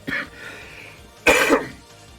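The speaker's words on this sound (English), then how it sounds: "still not quite over my cough yet" Two harsh coughs from a man recovering from illness, close to the mic, with a short gap between them and no speech.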